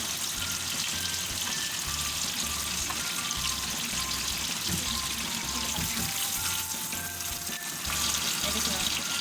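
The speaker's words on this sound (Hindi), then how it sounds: "हर साइड से इसे फ्राई करेंगे।" Gola kebabs fry in a pan with a continuous, dense crackling sizzle that stays loud and even throughout, with faint low voice murmurs underneath.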